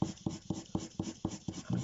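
A soft pencil drawing quick lines on paper, moving in a steady rhythm of about four scratchy strokes per second, close and fairly quiet with no talking.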